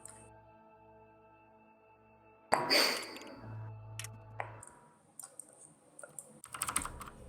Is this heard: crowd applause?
no